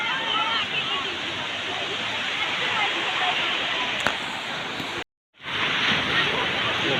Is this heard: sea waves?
yes